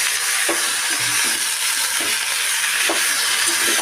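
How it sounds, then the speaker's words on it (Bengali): Banana flower being stirred with potato and papaya in a hot frying pan: a steady loud sizzle with occasional scraping knocks of the spatula at irregular intervals. "মোচাটা এই আলু আর পেঁপের মধ্যে তুলে দিলাম দিয়ে এটা নাড়তে থাকবো"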